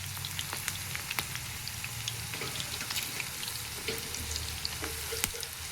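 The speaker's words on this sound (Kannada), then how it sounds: "ಸ್ವಲ್ಪ ಎಣ್ಣೆಯಲ್ಲಿ ಫ್ರೈ ಆಗಬೇಕು ಕೆಳಗಿನ ಭಾಗ, ಅವಾಗ ತಿರುಗಿಸ್ಬೇಕು ನೋಡಿರಿ." Okra fries in a little oil in a pan with a constant crackling sizzle, sharp spattering pops and a faint low hum beneath, heard close up with no voices.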